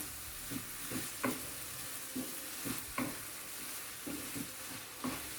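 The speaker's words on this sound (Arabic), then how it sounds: "نحركو نحرك الشعرية ديالنا مزيان مع الحشوة" Chinese vermicelli noodles being stirred with a chicken breast filling in a sizzling pan, with a steady frying hiss under repeated soft scraping strokes at an even rhythm, close by and with no talking.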